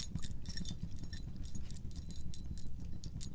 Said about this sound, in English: Now they're dangling the keys in front of me.